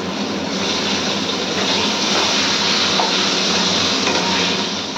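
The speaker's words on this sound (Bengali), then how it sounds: "এবার আমি আলুগুলো ভেজে নেব।" Potato pieces frying in oil already used for prawns, giving a dense, continuous, even sizzle that holds steady at close range throughout, with no talk.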